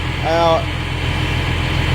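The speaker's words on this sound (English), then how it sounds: "The tractor is about to get backed up" A tractor engine idles steadily close by as it is about to be backed up, a low continuous rumble with a short voice heard briefly near the start.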